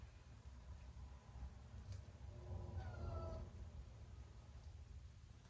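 A pet cat named Svetlana meows a few times, soft and somewhat distant, over a low steady background hum in a quiet room during a gentle yoga stretching session.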